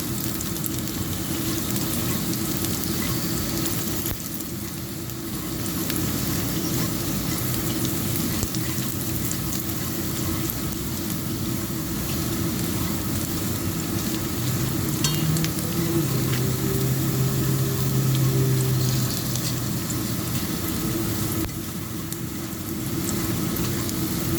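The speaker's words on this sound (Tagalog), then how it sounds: "Maglagay ka ng oil sa wok. At, at ilagay na yung cashew nuts. Haluin ang haluin hanggang magiging golden brown siya" Cashew nuts fry in oil in a wok, giving a continuous steady sizzle that swells at times as they are stirred, with no talk.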